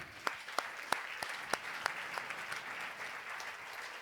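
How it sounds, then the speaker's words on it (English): Audience at a zoo conservation conference gives a short burst of applause, sparse sharp claps at first blending into a steadier, moderate clapping across an indoor hall. "So a big applause to all of you."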